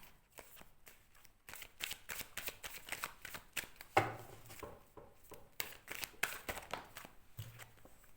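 Tarot cards are shuffled by hand in quick, uneven bursts of riffling and slapping, close up and fairly quiet, for a redraw during a card reading, with no talk.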